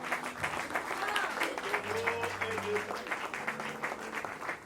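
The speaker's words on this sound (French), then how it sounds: "Une acclamation de victoire." Congregation at a prayer gathering for peace in the DR Congo applauds and cheers in victory, rhythmic clapping with raised voices and some shouting mixed in, moderately loud throughout.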